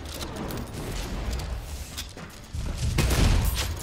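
Rumbling explosions from Soulslinger: Envoy of Death, a continuous churn of booms and crackling bursts that swells louder near the end.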